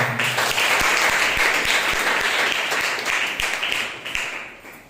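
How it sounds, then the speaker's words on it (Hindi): A church congregation at a Sunday service claps loudly and continuously in praise of God, a thick roar of many hands that holds steady for several seconds before tapering off. "आइए सबसे पहले हम उस परमेश्वर के लिए जोरदार तालियां हो जाए।"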